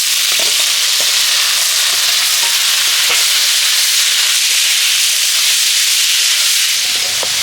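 Boiled banana flower and potato hit a pan of lightly fried onion and garlic, giving a loud, steady, close frying sizzle with faint scattered clicks throughout.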